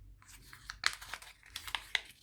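Paper being unfolded after accordion pleating for an origami cat ring, close crisp crinkles and rustles in quick irregular bursts, quiet and without talk.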